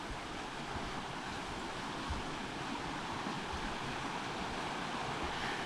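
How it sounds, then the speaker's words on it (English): Waterfalls run beside a hiking trail in a steady, dense rush of falling water that holds level throughout, with nothing else breaking through. "are those hot and cold running waterfalls I told you about"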